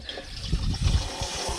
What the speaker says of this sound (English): So we are gonna fill up the water here.